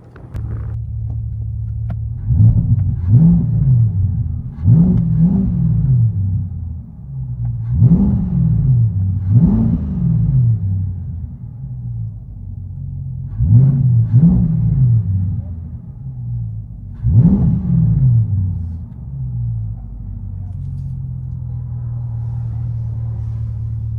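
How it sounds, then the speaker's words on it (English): Cabin view of a 2021 Chevrolet Corvette C8 with its 6.2L V8 and a Fabspeed catback exhaust with X-pipe and resonators, valves open: a steady low rumble swells into about six repeated throaty revs, loud and close. "C8 Corvette with fab speed engineering. Catback system with an X-pipe and resonators."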